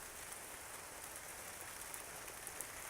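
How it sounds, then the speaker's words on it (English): Hail patters steadily onto the ground outdoors, a dense, even hiss of small impacts with faint scattered ticks, heard alone and fairly quiet. "Oh man, starting to hail."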